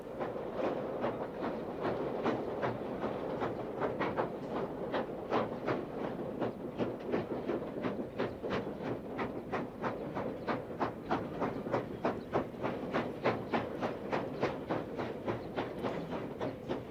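A steam-powered train working at a large industrial site in China chuffs in rapid, regular beats that quicken slightly, with a rumbling, hissing undertone from fairly close by and no voices.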